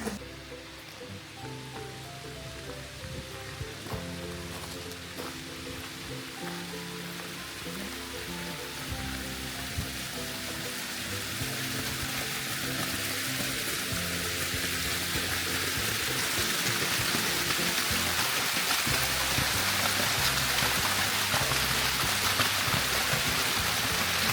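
A mountain river streams near a railway tunnel on the Circum-Baikal line, with a steady broadband rush of flowing water, close and continuous, growing slightly louder throughout with no voices.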